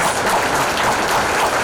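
Audience applause at a Cultivar 2024 speech event, a steady, dense wash of clapping filling the room at even loudness from start to finish.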